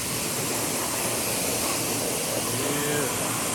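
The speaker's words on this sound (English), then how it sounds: "This pressure washer ain't even no pressure, like." Pressure washer running weakly while rinsing dirt off a motorcycle, a steady loud hissing spray of water that holds unchanged from start to finish.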